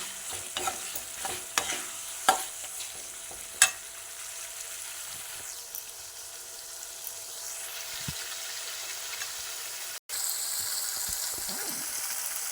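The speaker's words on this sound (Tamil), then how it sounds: "ஸோ இதுவே வந்து மசாலாவோடையே வந்து நல்லா கொஞ்சம் ஒரு 5 நிமிஷம் வந்து வதக்கிக்குங்க" Chicken sautéing in masala gravy in a pan, a soft steady sizzle beneath scattered stirring clatters and spoon knocks against the vessel, with a brief gap near the end.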